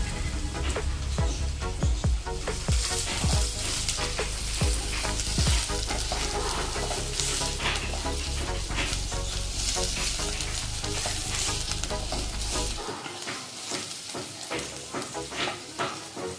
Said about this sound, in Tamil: ஸ்டவ்வில் ஒரு பேனை வச்சு அதில் ஆயில் சேர்த்து வெங்காயமும் ஆட் பண்ணிடுறோம்